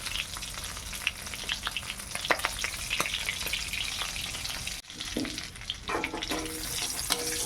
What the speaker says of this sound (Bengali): মাছটা ভাজা হয়ে গেছে, তো তুলে নেই।